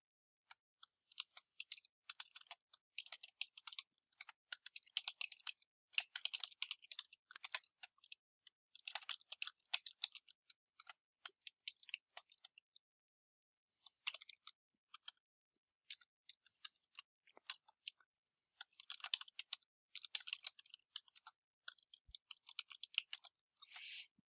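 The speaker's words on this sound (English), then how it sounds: "So I press the tab key and then I type that information." Keys on a computer keyboard are pressed in steady bursts of light, close clicking typing, including the tab key, with a short pause midway and no voices.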